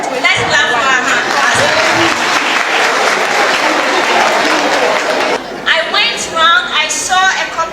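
Loud, dense applause from a group of students during a school visit in Ghana, sustained for about five seconds before dying away as voices talk over the last stretch.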